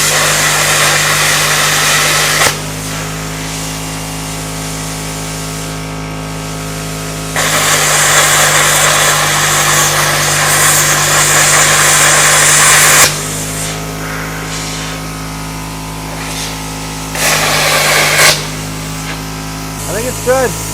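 An Arc Captain 50 amp plasma cutter slicing steel up to half an inch thick hisses loudly in several bursts, each a few seconds long, over a constant machine hum, with quieter gaps between cuts.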